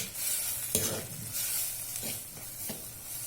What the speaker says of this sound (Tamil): நல்லா கொஞ்சம் மேஷ் பண்ணிக்கோங்க தக்காளியை